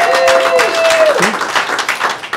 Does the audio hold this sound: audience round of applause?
yes